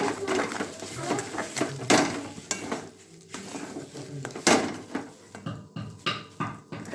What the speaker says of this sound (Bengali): হলুদ লঙ্কা গুঁড়ো দিয়ে আবারও ভালোভাবে নেড়ে নেব